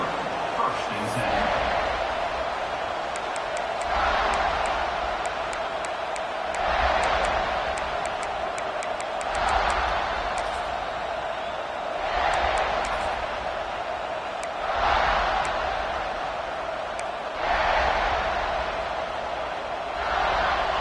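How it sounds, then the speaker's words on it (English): A football stadium crowd roars in waves that swell and fade every few seconds, a broad distant wash under a play-by-play commentator talking. "This crowd ready to make its presence known."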